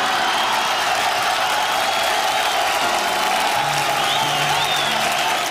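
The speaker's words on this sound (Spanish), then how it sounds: "fuerte el aplauso para ella" Sustained, loud applause from a television studio audience fills the space steadily, a dense wash of clapping with faint crowd voices underneath.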